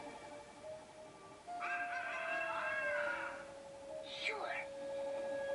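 A character's bird-call imitations in the Sly 3 video game come through as clucking, crowing-like tonal calls over quiet game background, with a warbling squawk near the end.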